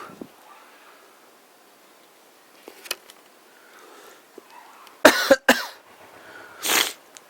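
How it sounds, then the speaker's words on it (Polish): Two sharp coughs burst out close together near the middle, followed by a breathy throat sound, over quiet rustling and faint background noise. "Ten przeklęty kaszel."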